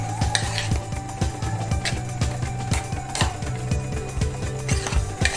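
Tinda mixed with its scooped-out pulp in a metal pot, a spoon knocking and scraping the sides in a quick, steady rhythm of loud clanks, close and continuous with no voice.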